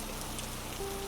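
Steady rain falling on a surface, a dense, even broadband hiss with soft scattered droplet patter, continuous and fairly quiet, with no speech or other sounds over it.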